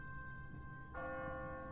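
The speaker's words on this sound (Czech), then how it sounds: "What kind of church bell goes off at 20 past the hour?" An automatic church bell rings in The Walking Dead video game, a faint tonal ring that swells suddenly midway into a fuller, sustained peal over a low background rumble, with no talking.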